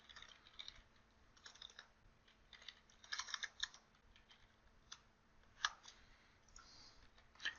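Faint, quiet computer keyboard typing, with scattered key clicks and a few brief bursts of faster tapping, heard close with no voices.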